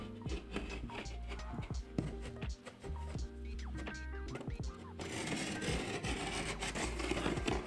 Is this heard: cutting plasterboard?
yes